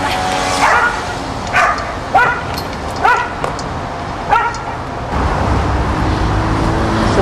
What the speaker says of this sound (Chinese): 这狗狗啊